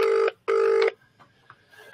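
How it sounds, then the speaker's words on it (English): An outgoing call rings back through a telephone line: two loud, even ring bursts separated by a short gap, followed by faint line noise and quiet clicks. "Is somebody going to answer the phone?"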